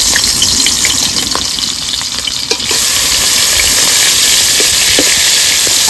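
Prawns frying in hot mustard oil in a kadai, coated with turmeric and salt: a steady, loud, close sizzle and crackle that runs the whole time with a brief softer dip midway, and no talking.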